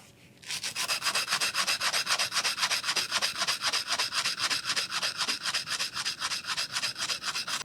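Round gouge being sharpened on 120-grit abrasive, a loud, close, rhythmic back-and-forth scraping that starts abruptly and keeps a steady, even stroke pattern throughout.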